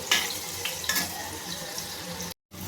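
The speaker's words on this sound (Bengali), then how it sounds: "এবার আমি আলুগুলোকে লাল করে ভেজে তুলে নেব।" Potatoes fry in oil in a kadai with a steady bubbling hiss and a couple of brighter spatters early on, cutting out briefly near the end before resuming.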